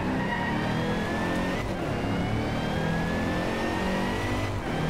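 Supercharged car engine in the Driveclub racing game, revving hard and steady with a rising whine, loud and continuous throughout, no voices.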